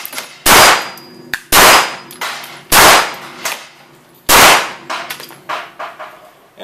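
A handgun fires four loud, sharp shots at a shooting range, spaced about a second apart. Each crack leaves a ringing metallic tail, with quieter clanks between the shots.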